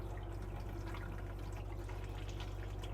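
Pressurised water runs steadily from the tap of a 2024 Swift Voyager 594 caravan as it warms up, a constant close hiss and splash over a low, even pump hum.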